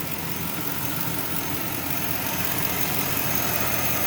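A Chevy/GMC truck engine, Silverado or Sierra type, idles after a belt tensioner replacement, a steady loud rumbling drone with slight rattly texture, close up and unbroken, no voices over it.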